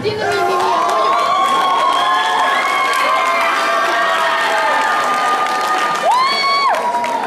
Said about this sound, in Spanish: Por favor, aplausos para Daniel Pérez.